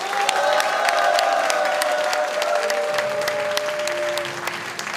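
A crowd at a party convention in Chungbuk claps loudly and steadily, with some cheering mixed into the dense applause throughout.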